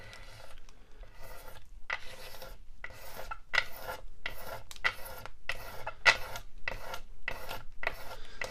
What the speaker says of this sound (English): I'm going to level this out with blades.